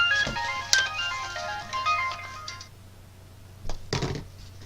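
Phone ringtone, heard as a bright repeating electronic melody for a few seconds, then cutting off before some clattering handling noises.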